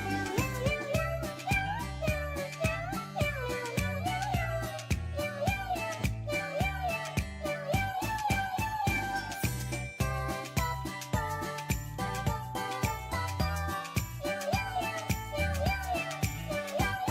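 Meowing cat sounds carry along with jingly, upbeat music for a long stretch, steady and fairly loud without pauses.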